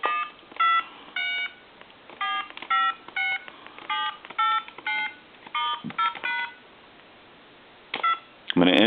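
DTMF tones from dialing numbers on a two-line telephone, a series of about a dozen short clear beeps in an uneven rhythm with brief pauses, ending in a clunk of handling.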